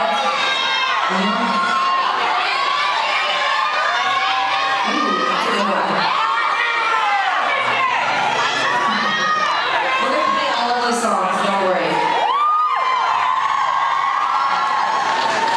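Concert crowd at a show yelling, whooping and cheering loudly and continuously, a dense wall of voices with shrill shouts rising above the roar throughout.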